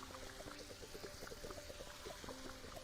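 Water pours in a steady, quiet stream while a container fills up in the game Fresh Start Cleaning Simulator, with small bubbly gurgles throughout.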